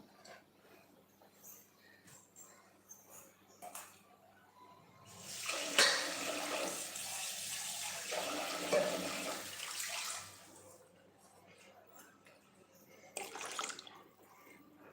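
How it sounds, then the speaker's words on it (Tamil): Water is poured into a cooking pot while a manathakkali greens kalani is being made, giving a soft splashing stream that swells for several seconds midway and then fades in a quiet kitchen. "கொஞ்சமாக தண்ணி ஊற்றிக்கிட்டேன் பாருங்கள்"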